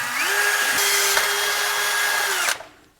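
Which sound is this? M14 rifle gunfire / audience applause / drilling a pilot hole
drilling a pilot hole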